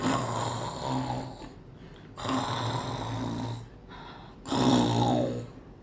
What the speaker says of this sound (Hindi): बेड में गोल्डी लॉक्स आराम से सोई हुई थी और जोर जोर से खर्राटे भर रही थी